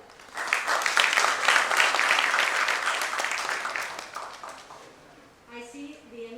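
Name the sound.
audience applause for nurses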